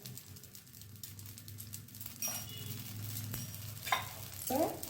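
Dosa batter frying in oil on a hot pan gives a steady sizzle that swells as oil is added, with a few soft clinks of a spoon against the pan.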